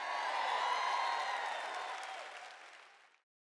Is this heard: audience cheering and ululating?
yes